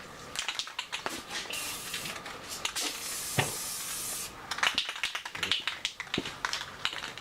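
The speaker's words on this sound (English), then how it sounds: "we'll lay the first coat of paint down" Spray paint hisses in bursts as the first coat goes onto John Deere 2940 tractor parts on a cold morning, with short clicks and taps between sprays.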